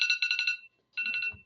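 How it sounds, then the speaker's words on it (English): A classroom timer alarm goes off in two bursts of rapid electronic beeping, separated by a short pause, clear and fairly loud with nothing else around it. "all right, that was the timer for DGP"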